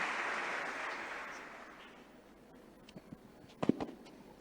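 Audience applause at a state event in Bhopal welcoming a student speaker, a broad wash of clapping that starts fairly loud and gradually fades out, followed by a few sparse, scattered claps and small knocks near the end.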